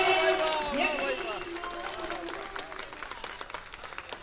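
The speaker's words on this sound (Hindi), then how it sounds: "तुम्हारी तालियां हिम्मत बढ़ाती है।" An audience at a Hindi poetry recital in Prayagraj claps loudly under a voice speaking over the noise, the applause gradually thinning into scattered claps.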